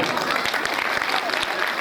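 An audience clapping at a Hindi religious discourse by a spiritual teacher, a dense, steady round of applause filling the hall for the whole moment, with no voices standing out.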